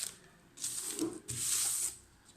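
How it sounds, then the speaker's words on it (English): Two short hissing bursts from a spray can onto the edge of a laminate kitchen worktop, close by, separated by a brief pause. "Now I'm going to spray this edge and I'm going to spray that edge."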